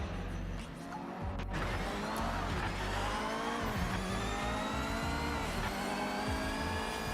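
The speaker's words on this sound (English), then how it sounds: "That car sounds alright, doesn't it?" A race car in the Project Motor Racing video game roars at high revs, its engine note climbing and shifting through gears with tire noise, loud and continuous without any voices.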